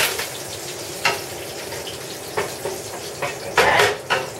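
Curry leaves sizzle in hot oil in a pan for coconut chicken tikka masala, a steady crackling fry broken by several sharp spattering bursts and a louder flare near the end, with no talking.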